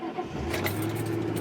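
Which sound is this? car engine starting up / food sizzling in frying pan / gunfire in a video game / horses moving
car engine starting up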